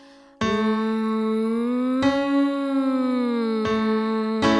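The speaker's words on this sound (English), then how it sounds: "We always start with a nice soothing hum," A single voice hums sustained, steady tones, gently sliding between pitches a third apart in a few held phrases, close and clear with no words.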